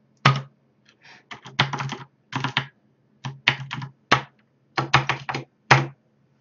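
Fingers typing on a computer keyboard in short bursts of crisp clicking keystrokes separated by brief pauses, close and clear, with no talking.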